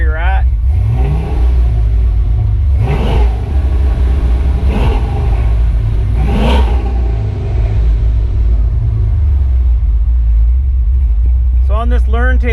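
A car engine tuned with a Holley Terminator X idles and rumbles with a low steady drone, a few rev swells rising and falling, while someone talks nearby over it.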